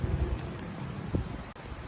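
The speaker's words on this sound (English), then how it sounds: "It's raining pretty bad. It's storming out here." Heavy rain pours steadily outdoors during a thunderstorm, a dense low wash of noise with a faint rumble underneath and a brief crackle near the end.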